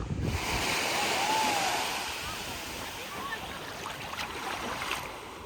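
Waves wash onto a beach in France in a soft, continuous roar, with wind buffeting the microphone and a gentle swell and fade of surf close by.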